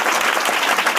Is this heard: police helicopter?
no